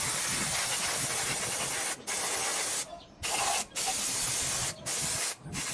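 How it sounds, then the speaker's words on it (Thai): Cleaner spray hisses onto a car's EGR valve in several loud bursts, each lasting about a second and separated by short pauses, with no talk. "ผมก็จะใช้เป็นสเปรย์คินเนอร์ ตัวนี้ นะครับ ใช้ตัวนี้พ่นแท็นะ"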